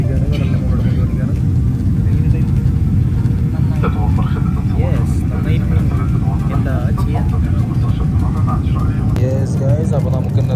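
A steady, loud low-pitched roar of an airliner cabin in flight over the sea, unbroken throughout, with someone talking briefly over the drone.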